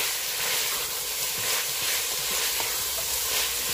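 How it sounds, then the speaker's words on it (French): Foufou ingredients brown in a pan over high heat, giving a dense, steady sizzling hiss with fine crackle throughout, close and even in loudness, with no talking. "Donc là, ça fait quelques minutes que ça rissole"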